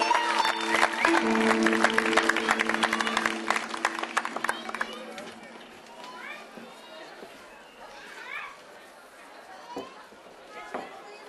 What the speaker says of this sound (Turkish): Kocaman alkışlar lütfen.